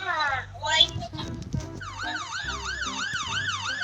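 A wailing police car siren from the Roblox game Brookhaven rises and falls in repeated sweeps, loud and electronic, with a voice talking over it at the start.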